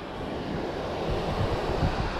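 Strong wind buffets the microphone beside stormy tidal water in Delaware, a steady loud rumbling roar with a few stronger gusts and no voices.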